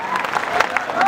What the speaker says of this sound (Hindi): ताली बजाइएगा आप लोग। आज जोरदार ताली।